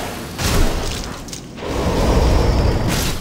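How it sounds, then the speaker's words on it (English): A fire bomb bursts in the dark fantasy game Demon's Souls: a loud close boom followed by a brief dip, then a sustained roaring whoosh of flames that stays strong to the end. "More fire bombs."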